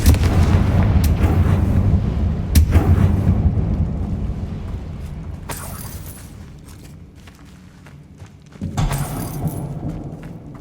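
Explosive blasts from the Confringo fire spell in Hogwarts Legacy, a heavy booming burst at the start and another impact near the end with rumbling tails between them, loud and close.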